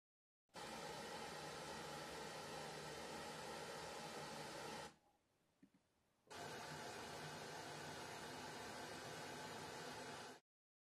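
Loud, steady broadband noise bursts from a Bluesound speaker during Dirac room calibration: one long burst, a brief near-silent pause with a faint click, then another long burst of hissing noise.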